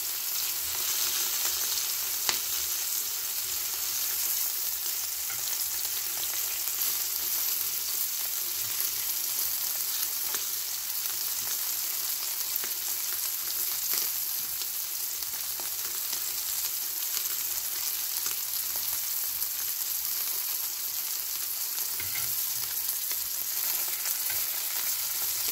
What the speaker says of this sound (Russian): Со всех сторон обжариваем сало, запечатываем